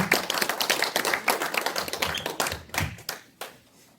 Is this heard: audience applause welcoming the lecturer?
yes